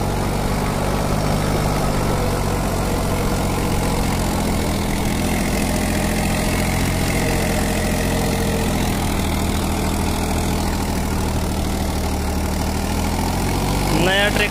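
A new 35-horsepower Mahindra 265 XP Plus tractor in first gear pulls a 6-foot rotavator, its engine chugging steadily and loudly under load throughout, close by with a low rumbling drone.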